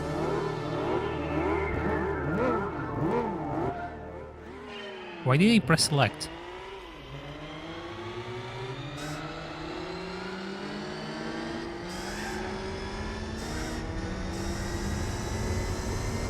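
A Renault Clio race car in Gran Turismo 4 revs with a buzzing engine whose pitch climbs and drops through repeated gear changes, and one short loud burst cuts in. It carries on steadily while a person talks over it.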